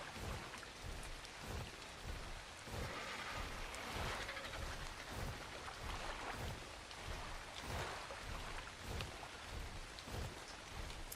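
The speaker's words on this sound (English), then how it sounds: "Raining again." Steady rainfall in the survival video game ARK: Survival Ascended, a dense continuous patter with soft rumbling beneath, moderately loud and uninterrupted, with no voices.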